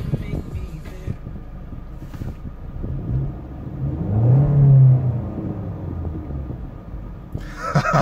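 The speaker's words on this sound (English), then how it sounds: "I'm gonna give it a quick rev for you here." The 2.3 liter EcoBoost engine of a 2017 Ford Mustang convertible gets a single quick rev, rising from a low rumble to a loud swell midway and settling back, heard nearby with some wind noise.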